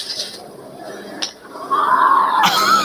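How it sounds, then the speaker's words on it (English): A scream rises at the finish line of a race, a high wavering voice that swells and stays loud through the last second, following quieter crowd noise and a brief sharp sound. "Holy scream said it all, dude."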